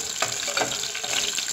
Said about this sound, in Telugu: కచ్చబచ్చ చిత్తుకు కొట్టుకున్న ఎల్లిపాయలండి ఫస్ట్ ఎల్లిపాయలు ఏగాలండి బాగా